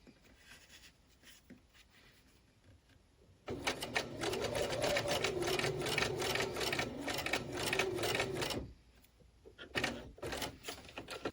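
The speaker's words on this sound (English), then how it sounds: "And now I'm going to sew this piece from here to here." A sewing machine stitches pieces of a Phoenix quilt block with Y seams, running in one steady, close, rapid burst of about five seconds between quieter handling of fabric.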